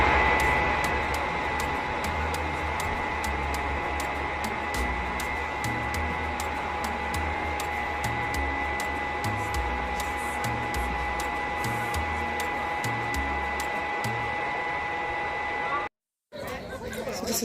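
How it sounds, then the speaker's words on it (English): A hood hair dryer roars steadily with a constant whine and airy hiss, cutting out briefly near the end before resuming; faint chatter underneath. "I'm going under the dryer now"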